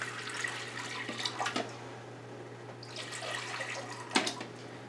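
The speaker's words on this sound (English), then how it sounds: "filling the Kasori slow cooker with about 1 inch of water" Water runs and splashes into a slow cooker, filling about one inch, under a steady low hum, with a clunk near the end.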